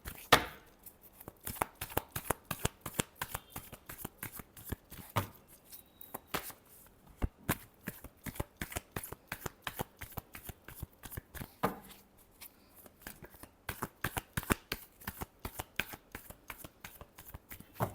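Tarot cards shuffled by hand, a long close run of rapid, crisp card slaps and flicks with brief pauses between bursts, quiet and without speech.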